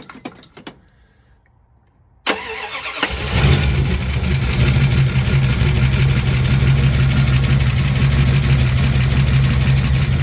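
A cold classic car engine, from a 1967 Dodge Coronet or 1966 Buick Wildcat, cranks and starts after a brief pause, then settles into a steady, loud idle with a faint rapid lifter tick running through it.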